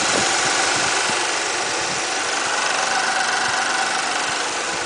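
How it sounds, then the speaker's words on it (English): Toyota Mark II Grande Regalia with a 2.5 L twin-cam 24-valve engine idles steadily, a close, even mechanical hum with light ticking under a broad hiss. "So it comes with a twin cam, 24 valve, a D4 with the VVT-i engine."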